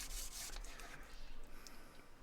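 Sandpaper rubs across a silver pendant in short, scratchy back-and-forth strokes. The sound is soft and close, with a rough, hissing texture and no clear pauses.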